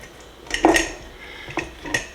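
Glass and hard clinks as pickles are packed into a rubber-gasket glass jar, three or four distinct close knocks spaced out over a couple of seconds.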